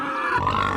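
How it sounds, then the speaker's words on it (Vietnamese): A pig lets out a brief, close, loud grunt that is gruff and sustained and lasts under a second, with no voices. "Con heo."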